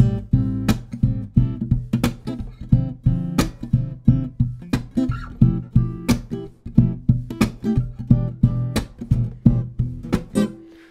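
Fingerstyle acoustic guitar plays a hip-hop groove up to speed, with steady muted thumb thumps, percussive slaps and strummed chord accents repeating in a tight, even rhythm, close and clear throughout.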